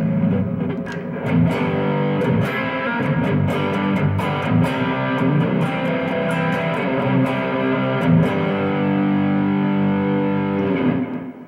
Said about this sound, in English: Into some distortion with delay.